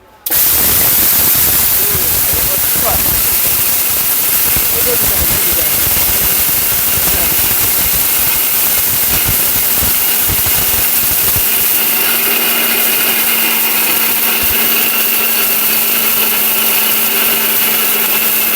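A 1400-watt steel Bush robot blender grinds dal at full power, a loud, steady whirring roar that holds unbroken for the whole stretch, with the motor's pitch settling slightly lower partway through.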